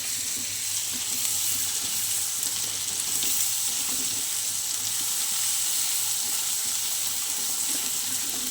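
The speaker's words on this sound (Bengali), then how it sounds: "চলো একটু ভাজা ভাজা করে নিই" Pieces of rohu fish frying in a pan for fish curry give a steady, even sizzling hiss that runs unbroken and fairly soft throughout, with no pauses.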